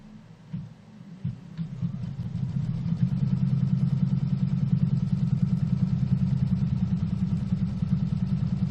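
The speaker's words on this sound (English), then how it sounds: "now we're going to do the next stitch, which is tacking down this green fabric" An embroidery sewing machine tacks down green fabric on a quilt block, its rapid mechanical whirring starting with a few clunks and then settling into a steady, continuous close hum.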